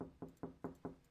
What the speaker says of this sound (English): Hey, more knocking.